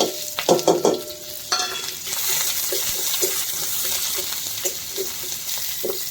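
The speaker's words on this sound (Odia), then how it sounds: "ତେଲ ତ ଗରମ ହେଇଗଲାଣି, ଟିକେ ଫୁଟଣ ଦେଇଦେବି। ପିଆଜ କାଟିକି ରଖି ତାକୁ ଦେଇଦେବି।" Onions fry in hot oil in a wok: a loud clatter of stirring opens, followed by a steady, close sizzle with intermittent scraping taps.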